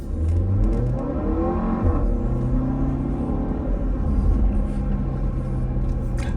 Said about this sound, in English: It is a 2-liter turbo engine with a 7-speed dual clutch transmission.